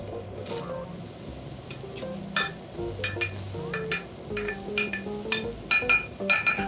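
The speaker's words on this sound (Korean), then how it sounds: "두 번째 야채 가지도 똑같이 오일 없이 볶아줄게" Eggplant stir-fried in a wide pan with no oil, giving a faint, dry sizzle under a steady run of light scrapes and clinks from the utensil against the pan.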